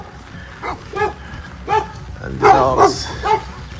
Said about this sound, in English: the dogs are excited to see us.